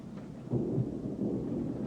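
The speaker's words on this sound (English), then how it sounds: "You think this storm is trying to tell us something?" Low, rolling thunder from a storm rumbles steadily, swelling after a brief lull and holding as a muffled, moderately distant roar with no voices.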